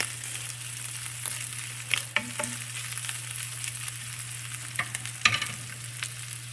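Pizza toppings sizzling in a cast iron pan, a steady close frying hiss with occasional sharp crackles and spatula scrapes, no talking.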